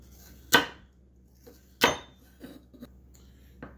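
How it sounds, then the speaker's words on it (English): Carrots chopped with a kitchen knife on a cutting board, two sharp, loud chops followed by several softer taps, in an otherwise quiet kitchen. "So, let's chop up some carrots."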